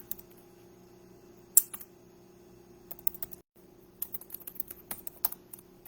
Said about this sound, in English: I'm typing in my good morning.